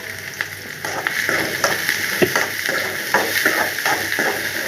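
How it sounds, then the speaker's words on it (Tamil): Onions hiss and crackle in hot oil in a heated pan, a steady close sizzle with bursts of popping and a few soft stirring scrapes. "சட்டி சூடாகிட்டு இப்போது வெங்காயம் போட்டுக்கிறேன்."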